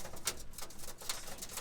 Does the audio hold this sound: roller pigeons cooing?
yes